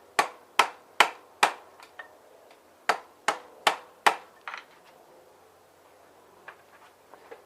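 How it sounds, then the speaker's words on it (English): Rubber mallet smacking a T-bar wrench seated on a Kawasaki KLX fork cap: a quick run of four sharp knocks, a short pause, then four more, followed by faint clinks, close and clear with no talk. "using the T-bar wrench, putting it on top of the fork cap and a rubber mallet to smack it down a little bit"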